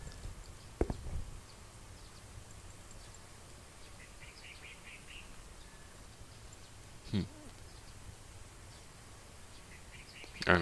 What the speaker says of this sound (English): I don't know, that was just birds.